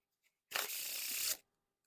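A deck of Bloc Marble Edition playing cards fanned out face-up in one smooth sweep, giving a close, dry papery rasp that lasts just under a second, surrounded by silence.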